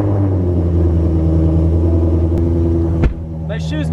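A Ford GT350 drones with a loud, steady, low engine rumble while driving, holding evenly for about three seconds before dropping away abruptly, followed by a brief higher-pitched sound.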